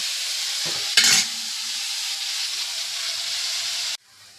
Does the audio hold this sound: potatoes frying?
yes